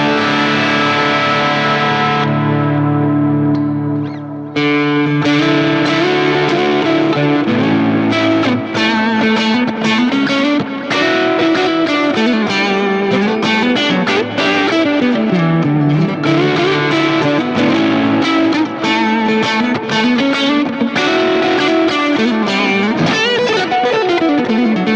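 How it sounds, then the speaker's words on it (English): Loud electric guitar through a Line 6 Helix stereo delay, echoing repeats spreading out behind each phrase, a thick, effected tone playing continuously without any talking. "We've got our stereo delay sound."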